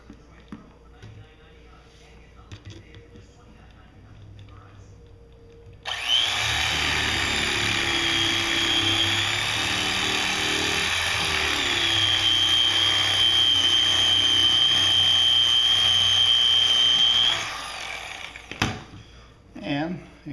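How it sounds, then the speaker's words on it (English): An electric fillet knife whirs steadily as it skins a speckled trout fillet, a close, high buzzing motor that starts abruptly, runs for about ten seconds and cuts off, with quiet handling noise around it. "You see the skin came off really easy with that electric fillet knife."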